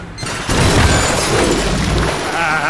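Video game truck plunges off a cliff into water, a heavy crashing splash with a deep booming impact followed by sustained churning rumble and fizzing for a couple of seconds.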